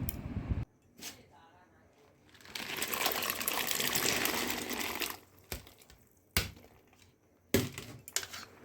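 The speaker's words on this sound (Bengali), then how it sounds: "আমি এগুলোকে ঘষে ঘষে ভালো করে ধুয়ে নেব।" Jujube fruits (kul) being rubbed and washed in a basin of water, with short sloshes and clattering knocks, then a longer stretch of swirling, splashing water, followed by a few sharp splashes, close up and with no voices.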